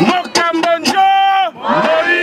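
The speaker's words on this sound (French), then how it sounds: "La foule a réagi." A crowd at a political rally in Sakanya, Congo, roars in a loud, sustained burst of shouting and chanted cries, with voices rising and falling together across a couple of seconds.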